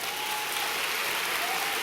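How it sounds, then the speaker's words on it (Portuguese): A church congregation claps in praise at a sermon, a steady, dense burst of applause that fills the whole short moment at an even level. "Então aplauda Ele."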